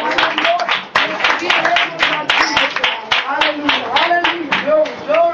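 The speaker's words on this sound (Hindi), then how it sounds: "हम तालियां मारकर धन्यवाद देंगे।" A church congregation claps in thanks. The claps are loud, close and roughly rhythmic, with singing or speech-like tones running under them throughout.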